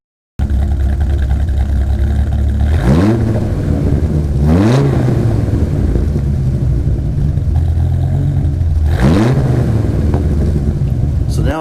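A Dodge Viper fitted with straight-pipe exhaust revs loud and close, with three sharp throttle blips rising and falling over a steady idle rumble.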